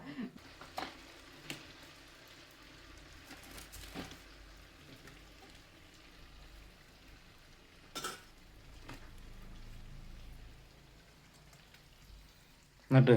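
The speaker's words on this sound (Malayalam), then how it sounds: "തിളക്കുന്ന എണ്ണയിൽ ഇട്ട് കഴിഞ്ഞാൽ മാവ് ഇങ്ങനെ തന്നെ പൊന്തി വരും." Unniyappam batter frying in boiling oil, a low sizzle and bubbling heard quietly throughout, broken by a few sharp clinks of utensils against the pan, with a louder knock at the very end.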